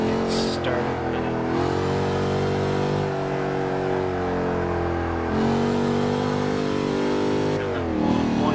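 A Jaguar XKR-S GT engine in the Forza 6 racing game revs loudly and continuously, its pitch climbing and dropping through gear changes while cornering.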